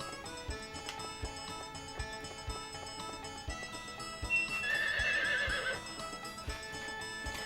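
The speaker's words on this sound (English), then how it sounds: "More Harvest Moon. The slowest horse." A horse in Harvest Moon 64 gives a bright whinny in the middle of the stretch, while steady rhythmic hoof clip-clops repeat throughout over looping game music.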